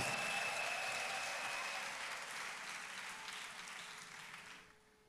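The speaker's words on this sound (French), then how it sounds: "Acclamation à Jésus de Nazareth." A congregation at a national retreat for unmarried people applauds in acclamation. The clapping is distant and fairly faint, steady at first and then tapering off to near silence.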